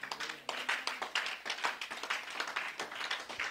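A church congregation claps for Jesus, with fairly quiet, uneven bursts of hand claps from a smaller group rising and falling in quick succession.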